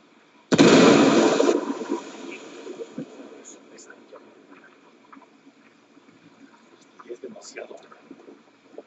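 A frag grenade explodes in the video game Ghost Recon Wildlands, one loud close blast that fades into scattered faint sounds and distant pops.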